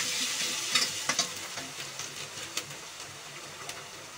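Chopped ginger and green chilli sizzle steadily in a pan over a low gas flame, with a few soft stirring clinks and scrapes at irregular intervals, close and fairly quiet.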